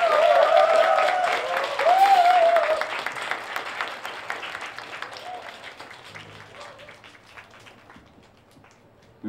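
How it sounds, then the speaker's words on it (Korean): Warm applause from an audience welcoming a new member, a dense burst of clapping that starts loud and gradually thins and fades away, with a brief cheer or whistle near the start. "뜨거운 박수로 환영을 부탁드립니다"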